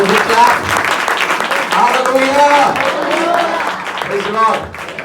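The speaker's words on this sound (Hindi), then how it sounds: "हम चाहेंगे कलीसिया जोर से ताली बजाकर उनका स्वागत करें" A church congregation claps loudly in welcome during a service, a dense sustained burst of hands under voices that carry on over it, easing off near the end.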